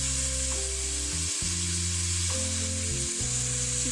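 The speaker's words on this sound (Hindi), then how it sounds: "चिकन डाल दिया फ्राई होने के लिए" Chicken pieces frying in a pan over medium heat for a Pakistani shimla mirch (capsicum) chicken dish, a steady close sizzle running through the whole stretch alongside sustained tonal sounds, with no talking.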